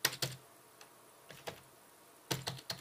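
Bursts of keystrokes on a computer keyboard as a font name is typed: a quick cluster at the start, a few isolated taps in the middle, then another rapid flurry near the end, close and fairly quiet, with no talking.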